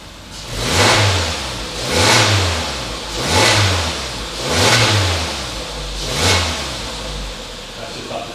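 A Suzuki Jimny on its stock exhaust, revved up to 3,000 rpm five times in a steady rhythm, each rise swelling and falling back to idle, heard close and clear.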